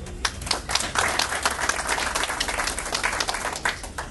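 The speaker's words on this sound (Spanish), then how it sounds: "para quien pido un fuerte aplauso." Audience at a press conference in Trujillo gives sustained applause for the marketing manager, a steady roar of many clapping hands with sharper individual claps standing out, loud and continuous throughout.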